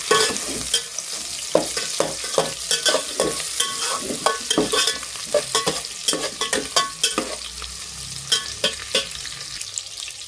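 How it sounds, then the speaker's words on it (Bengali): Whole spices fry in hot oil for an egg biryani, a continuous sizzle punctuated by a rapid, rhythmic series of sharp scrapes and clacks as a spoon stirs the pan. "এখন দিয়ে দেবো আমি এই খাড়া মশলাগুলো, এর সাথে দিয়ে আমি ভেজে দেবো"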